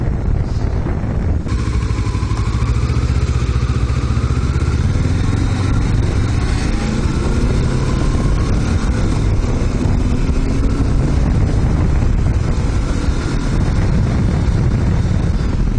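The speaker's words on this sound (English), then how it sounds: "this is what I'm driving right now. It's a 2007 Kawasaki Ninja 650R, I believe." A 2007 Kawasaki Ninja 650R motorcycle out on a ride gives a steady, loud engine drone mixed with wind roar that holds evenly from start to finish, with no talking.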